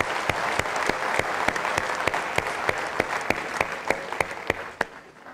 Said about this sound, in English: shall we give a big round of applause to Archbishop?